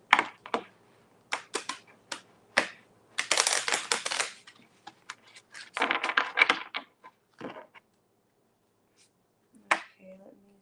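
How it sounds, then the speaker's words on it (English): Tarot cards being shuffled by hand in sharp, crackling bursts between pauses, with a couple of longer riffle runs, close up and moderately loud, and a brief voice near the end. "let me shuffle these cards"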